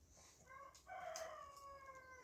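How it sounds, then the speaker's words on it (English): A young cockerel crows once in the morning, a short harmonic call that rises and trails off, faint and somewhat distant against quiet outdoor background. "My little cockerel singing away in the morning."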